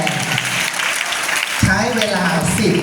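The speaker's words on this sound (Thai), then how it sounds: "จบการนำเสนอปรบมือให้พี่พรามด้วย" An audience at a school ethics training session claps after a presentation, steady clapping throughout with a voice speaking over it in the second half.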